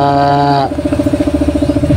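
A multicab's small engine idles close by in a workshop, a loud rhythmic chugging pulse after a brief higher whine at the start.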